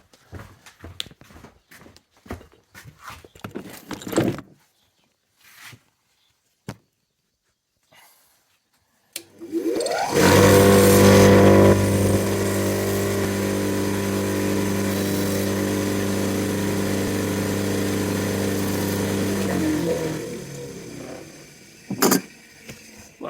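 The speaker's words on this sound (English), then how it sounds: "I'm going to clean it up on the wire wheel." Bench wire wheel spins up and grinds steadily against a wooden hand plane knob, loud and close for about ten seconds before winding down, with light handling clatter beforehand.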